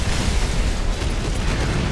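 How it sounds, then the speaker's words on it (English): Bombs exploding in the War Thunder video game, heard as a continuous heavy rumbling roar of blasts that fills the whole stretch at high volume. "Bombs, bombs, bombs."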